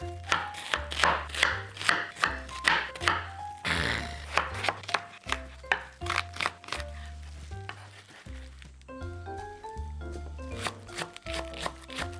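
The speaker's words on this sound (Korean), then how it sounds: "야채부터 손질하자." A knife chops vegetables for hamo shabu-shabu in quick, regular thuds on a board, each chop sharp and close, with a brief pause midway before the rhythm resumes.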